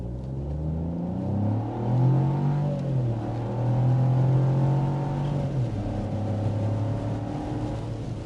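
A 2024 Chevy Trax or Buick Envista with a 137-horsepower 1.2-liter turbocharged three-cylinder engine accelerates, its steady engine drone rising in pitch, dropping at a shift, then climbing again. The engine stays loud and close, with no talk.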